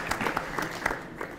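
Students clapping in a school classroom during a Kiswahili lesson, a short burst of applause rising and falling with a few sharper claps over about a second.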